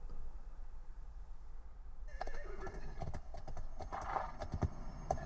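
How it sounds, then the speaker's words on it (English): A Mercedes in-car voice assistant plays a synthetic unicorn sound effect: a whinnying horse neigh with clip-clop hooves, starting after a quiet moment and coming through the car speakers at moderate level. "You can actually get the Hey voice assistant to do animal sounds."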